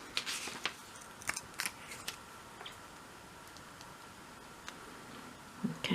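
Scissors snipping around small paper labels for craft miniatures, a few quiet, irregular clicks and snips scattered across a soft room background, no talking.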